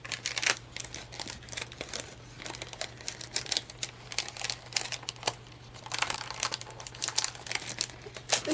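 Glossy planner sticker sheets from a Planners Anonymous Dream Chaser kit crinkle and rustle as they are tugged from plastic packaging, a steady run of close crackles and taps with brief louder bursts throughout.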